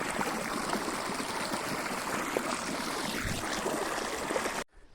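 Water running steadily into a paddy field, a continuous close rushing and gurgling flow that stays even throughout and cuts off abruptly at the very end.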